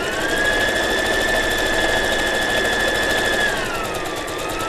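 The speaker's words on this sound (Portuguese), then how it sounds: "Agora eu vou voltar à máquina, passa na costura na volta inteira com a medida de pé de máquina." A sewing machine stitches fabric for a multi-use basket bag made from scraps, sewing all the way around at presser-foot width. It gives a steady, loud, continuous motor whir close to the microphone with a slight pitch drop near the end, and no talking.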